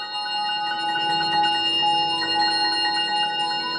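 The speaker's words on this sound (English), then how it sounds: "crotales and they make the right noise." Crotales struck with moleskin-covered mallets, giving a steady shimmer of bright, sustained bell-like tones with long ringing overtones, played continuously at an even level with no talking.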